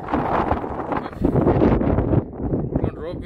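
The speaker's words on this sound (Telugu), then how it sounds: "పైకి అయితే ఎక్కానా గాలి అనేది నన్నే ఎగరేసేటట్టుంది." Strong wind buffets the microphone on a hilltop trek to Savitri Mata Temple in Pushkar, a loud gusting roar with a person talking over it.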